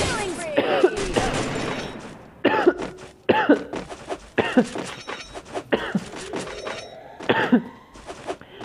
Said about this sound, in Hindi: जब भी मैं ऊंची बोलने की ट्राई करता हूँ ना तब भी मेरे को खांसी आ जाती है